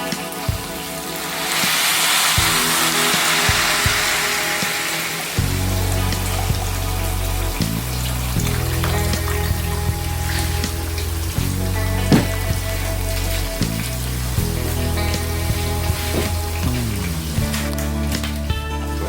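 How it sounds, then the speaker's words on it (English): Water poured into a pan of curry shrimp stir fry with bean sprouts, giving a rushing, splashing wash of sound for a few seconds, followed by a steady sizzling simmer with clinks of utensils. "I'm going to pour some water."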